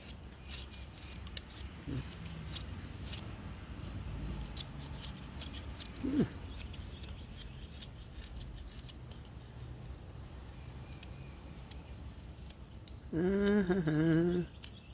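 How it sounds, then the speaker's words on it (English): Knife whittling wood outdoors in the mountains, with faint repeated scraping and shaving strokes at close range over a quiet background, one louder cut partway through and a brief tonal sound near the end. "Just a fun little whittle."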